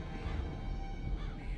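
Crows caw a few times, fairly faint, over a steady low rumble of ambience in a scary woodland level of the Rec Room video game.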